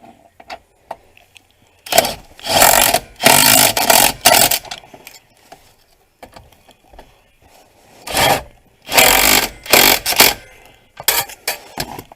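A ratchet wrench tightens 13 mm nuts holding the steering column to the body of a Ford Explorer or Mercury Mountaineer, loud bursts of rapid clicking separated by quiet pauses.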